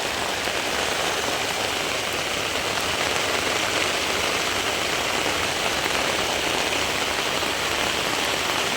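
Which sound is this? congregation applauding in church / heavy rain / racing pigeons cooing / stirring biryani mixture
heavy rain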